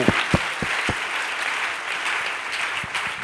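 Church congregation applauding, a steady wash of clapping with a few sharper claps standing out near the start, moderately loud and continuous with no talk.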